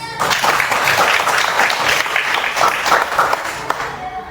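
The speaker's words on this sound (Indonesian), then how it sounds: "Berikan tepuk tangan dulu buat si Denis." A classroom of students claps for a classmate who has just finished reading his essay aloud, a dense, steady burst of many hands lasting several seconds before tapering off at the end.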